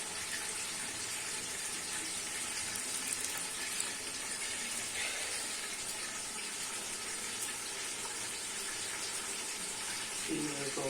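Water pours steadily into a pot of soured, fermented yogurt, making a continuous close gushing splash that runs unbroken for about ten seconds.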